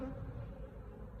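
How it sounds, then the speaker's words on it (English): Light golden-orange honey bees buzz around their hive in spring, making a faint, steady, low hum with no talk. "This one, these are quite orange, these bees."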